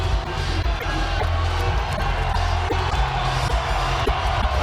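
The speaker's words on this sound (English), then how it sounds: "Just listen to that support." Boxing arena crowd roaring in support of Lamont Peterson, a dense, sustained wall of cheering and noise with scattered thumps, loud and continuous throughout.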